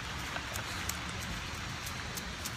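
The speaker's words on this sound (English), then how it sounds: "I really wish it wasn't raining though." Rain falls during a drive in bad weather, a faint, steady wash of hiss with scattered light taps of drops throughout, no voices.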